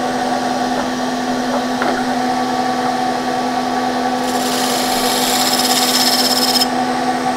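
A power tool flattens weld beads on metal, giving a steady loud grinding hum with a constant tonal drone, a harsher hissing burst joining in the second half as the tool bites into the beads.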